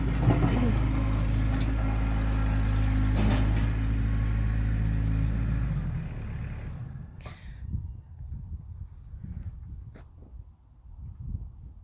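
A small tractor pulls a manure spreader around, its engine rumbling loud and steady for about six seconds before dropping to a softer, uneven chugging with a few bumps and clanks.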